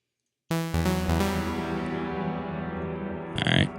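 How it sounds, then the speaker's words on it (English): A saw wave synth sent fully into a large cathedral-style reverb in Ableton starts abruptly after a short silence, then rings on as a bright, buzzy, sustained tone with a long reverberant wash; a brief higher burst appears near the end. "All right, so now we can hear that we have some reverb."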